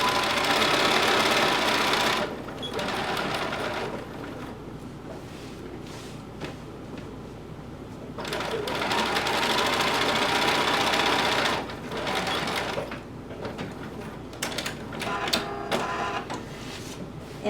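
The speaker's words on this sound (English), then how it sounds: "Now we're going to sew the little bottom piece the same way." A sewing machine stitches the bottom piece of a top with leather accents, running in several bursts of rapid mechanical whirring separated by quieter pauses, close and fairly loud with no voices.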